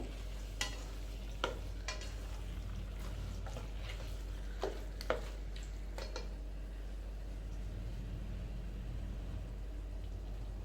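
Cooked jackfruit and ghee being stirred in a pan for jackfruit biryani, with a steady sizzle and fry under scattered sharp scrapes and clinks of a spoon against the pan, no talking.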